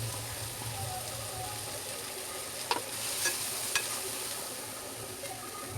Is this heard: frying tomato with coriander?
yes